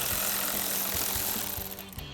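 A ratchet with a 7mm socket loosening a screw in a pickup truck's wheel well clicks in a rapid, regular series close by, under a steady background hum.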